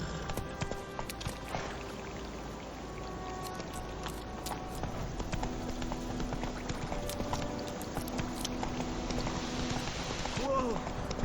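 Roach the horse's hooves clip-clop in The Witcher video game, a steady, moderately faint rhythm of hoofbeats running throughout under game ambience, with a voice near the end.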